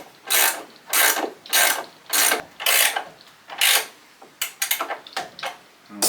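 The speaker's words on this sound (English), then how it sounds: "ratchet spanners." Ratchet spanner on a 19mm locking nut during a wooden beehive build, about eight rhythmic close-up clicking strokes followed by quicker, shorter ratcheting bursts, with no voices.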